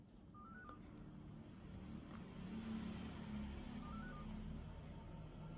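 Phone call dialing tones sound faintly through a Telegram call, two short tone blips over a steady background hum and passing-traffic rumble.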